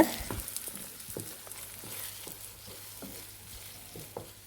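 Eggs scramble in a pan with broccoli and turmeric under a soft, continuous sizzle, while a spatula scrapes in a quick, regular rhythm close by.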